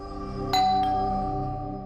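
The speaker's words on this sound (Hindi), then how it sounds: "बाहर कोई दिखाई नहीं दे रहा, घंटी सुनाई दी" A doorbell chimes once inside a house, a clear two-tone ding-dong that rings out and slowly fades over a steady background hum, with no one talking.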